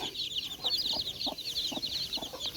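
A flock of chickens clucks steadily in a farmyard, a busy layer of overlapping clucks with a few louder calls standing out, heard from nearby.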